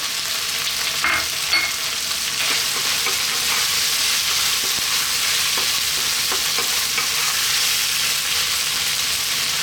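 Tomatoes stirred into a frying pan of fish curry base give a loud, continuous sizzle close up, with occasional spatula scrapes and taps against the pan throughout.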